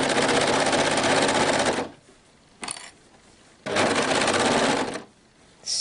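Sewing machine stitching raglan seams on a stretch velour hoodie, two long loud bursts of rapid stitching separated by a short pause with a brief clack, close and alone without talk.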